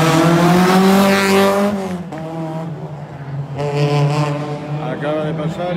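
Rally car on a timed stage, engine note rising and falling as it passes at speed, heard under a commentator's loud continuous talk.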